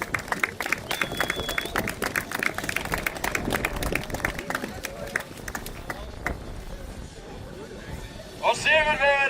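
An audience claps dense and fast for an award winner at a street-mile racing awards ceremony, then the clapping thins out and fades, and a voice speaks briefly at the close.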